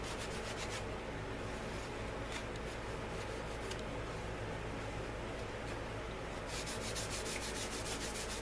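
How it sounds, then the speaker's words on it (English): A cloth buffs excess finish off a leather holster, giving a steady, close rubbing hiss that runs without a break and has no talk over it. "just buff off the excess there"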